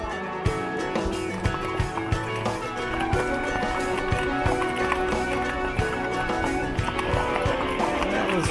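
Mules carrying riders on a Grand Canyon trail, hooves clip-clopping in a steady, uneven walking rhythm close by. A constant rumble and a low hum run underneath throughout.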